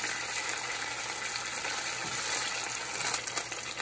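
Chicken pieces stir-frying in a pan for Kung Pao chicken give a steady, close sizzle with a light hiss throughout, picking up a few louder crackles near the end.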